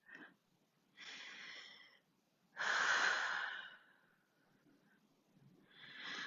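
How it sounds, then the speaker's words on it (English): Slow deep breaths during a yoga cool-down, each long inhale and exhale drawn out and airy, close to the listener, with quiet gaps between them and no speech. "Let's get 3 more slow breaths here."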